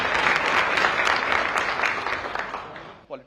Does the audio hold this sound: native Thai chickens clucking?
no